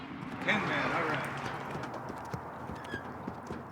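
Horse hooves clip-clopping as it is led, a steady sequence of close thuds and knocks over a noisy outdoor background, with faint voices.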